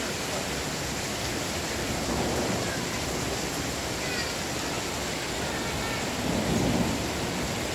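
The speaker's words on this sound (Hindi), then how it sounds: "बारिश रुकने का नाम ही नहीं ले रही है" Heavy rain pours steadily during a trip in Swat, a dense, unbroken roar with low thunder rumbling beneath it and a slight swell near the end; no voices.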